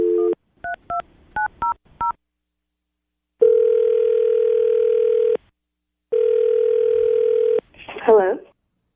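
A telephone call is placed: a quick series of touch-tone dialing beeps, then two long ringback tones separated by a pause, before a voice briefly answers at the end.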